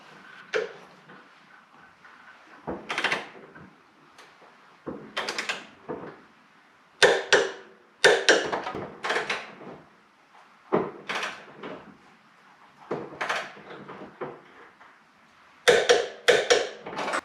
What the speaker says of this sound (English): Let's go ahead and torque this thing down.